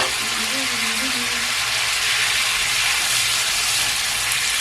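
Beef for a stir fry sizzles in a hot pan as a steady, bright hiss that continues without a break, with a brief voice near the start.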